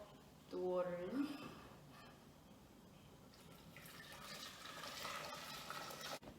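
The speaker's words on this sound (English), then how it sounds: "I'm just going to pour the water in." Water pours into a cooking pot holding peeled potatoes and salt for gnocchi, a steady hissing splash building up after a brief voice at the start and continuing to the end.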